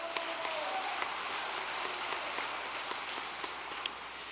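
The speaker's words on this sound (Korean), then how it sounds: "우리 결의와 다짐에 감사의 박수를 올려드리도록 하겠습니다" Applause of thanks from a gathered congregation at a unification training retreat, a steady dense wash of clapping hands throughout, moderately distant and even in loudness.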